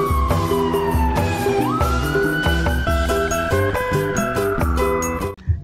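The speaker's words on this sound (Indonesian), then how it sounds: "ada mobil polisi." A rising and falling electronic siren wails continuously over a dense, busy musical background, loud and steady before cutting off at the end.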